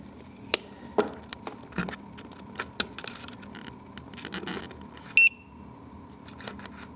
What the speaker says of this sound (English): You heard the beep